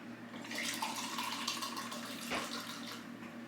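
Rubbing alcohol poured from a bottle through a funnel into another bottle for a homemade cleaner, a steady close trickling and splashing liquid stream running throughout.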